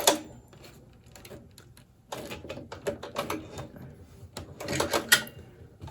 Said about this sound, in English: now back stitch a couple of stitches